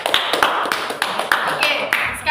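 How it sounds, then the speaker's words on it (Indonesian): A classroom gives a presenting student group a round of hand clapping: a short burst of several people clapping with uneven, sharp claps, fairly close and loud. "silakan berikan tepuk tangan ke kelompok 1"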